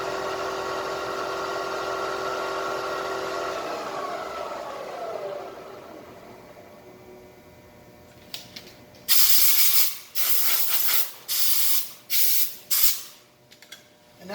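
A manual Bridgeport milling machine spins a tap counterclockwise out of a part, its motor whine winding down, followed by loud bursts of hissing air spray.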